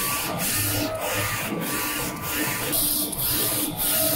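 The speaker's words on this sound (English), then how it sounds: "So we can see here now print the white layer first." A Focus Nebula 42F DTF printer lays down its white ink layer on film. The sound is a loud, steady mechanical hum with evenly spaced swishes as the print head sweeps back and forth, close and uninterrupted.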